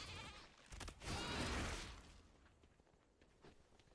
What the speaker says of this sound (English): These sheeps always get so angry when you steal their moss.